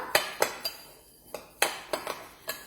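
Coloured rice mixed with food colouring in a container, stirred so a utensil clinks and taps against the sides in a quick irregular series of bright knocks, close and without talk.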